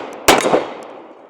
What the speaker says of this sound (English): Let's go ahead and take a few more shots with the TRP.